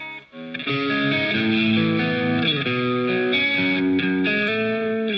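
An electric guitar with a distorted, effects-laden tone plays a sequence of sustained chords in a familiar shape, ringing steadily and loud with no talking.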